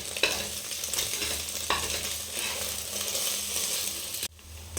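Omelette pieces sizzle in a hot pan for chicken fried rice as a spatula stirs them, a steady close frying hiss with a few scraping knocks, cutting off abruptly near the end.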